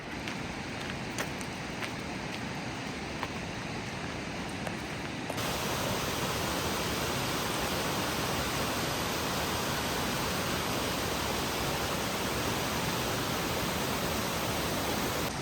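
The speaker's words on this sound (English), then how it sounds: "Now we're up closer to the Stillaguamish, and boy, it is loud and full right now." Loud, full Stillaguamish River rushing along a logging road off the Mountain Loop Highway, a dense steady roar of water that swells louder partway through and holds close and constant with no talk.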